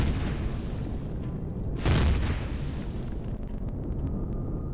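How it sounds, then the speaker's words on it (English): Rocket barrage in Empyrion Galactic Survival, a loud continuous rumbling roar of explosions swelling near the middle, with faint clicks over the top and no talking. "Guess one barrage from the rockets won't hurt."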